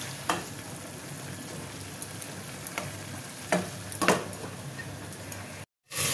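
Mutton fries in a pan for a kosha-style curry, giving a steady, moderate sizzle broken by a few sharp spatula scrapes. A brief silence falls just before the end.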